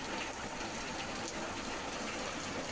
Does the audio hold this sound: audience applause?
no